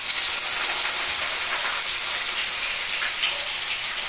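Sliced onion goes into hot oil already tempered with bay leaf and panch phoron in a pan for vegetable dal. It gives a loud, steady, close hiss and sizzle that carries unbroken throughout, with no talking.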